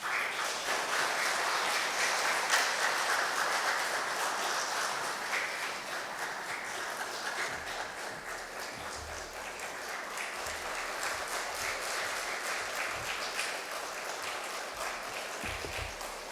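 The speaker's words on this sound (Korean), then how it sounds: "우리 교수님, 우리 박수로 맞이하도록 하겠습니다." An audience welcomes a professor at an autumn church retreat with sustained applause, a dense indoor clapping that swells early, then settles into a steady, slightly thinning patter throughout.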